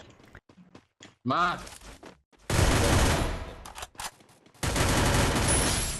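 MP5 gunfire in the Free Fire video game comes as loud, dense bursts of rapid shots in two long stretches, with brief sounds before them and someone talking over parts of it.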